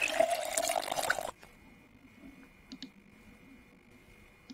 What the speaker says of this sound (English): Fill water bowl.